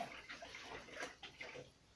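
Star San sanitizer liquid is poured over home-brewing gear for bottling a brown ale, a faint splashing trickle with no talk heard.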